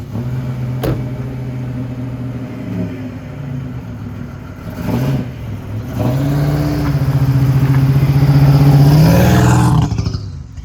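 A 1987 Buick Grand National turbo on a driveway, its engine running steadily and then swelling louder as it pulls away and revs up, close and alone with no talk.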